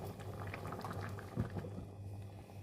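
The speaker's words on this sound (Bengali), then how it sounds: "দেখো ফুটে এসেছে" A pan of ghugni curry with tomato sauce simmers and bubbles, making soft, irregular popping and burbling over a low, steady hum of the stove, faint and close.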